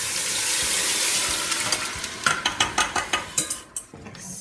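Liquid pours into a pot of chickpea-mushroom curry as it is stirred and scraped, a steady wash of splashing followed by a run of close, rhythmic scraping and clinking strokes against the pot.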